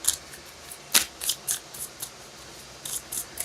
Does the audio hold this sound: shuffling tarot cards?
yes